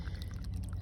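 Water drains out of a freshly cut PEX plumbing pipe, a brief, continuous gushing pour that sits close and fairly quiet.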